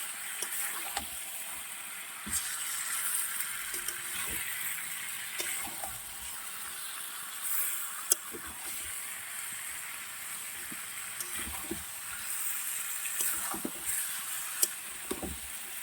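Chicken meat cooking in a pan gives off a soft, continuous sizzle with occasional faint clicks and stirring knocks. It stays quiet and steady throughout, with no voices.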